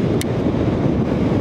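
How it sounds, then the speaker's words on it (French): Strong gusting wind buffets the microphone on a beach, a loud continuous low roar with a brief faint high click early on. "il y a tellement de vent qui fait même tomber mon trépied de caméra"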